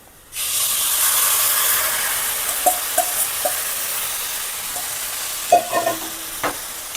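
Boiled, salted bone-in beef pieces tip into a hot pan and stir-fry with a loud sizzling hiss, punctuated by several clinks of a spoon or spatula against the pan.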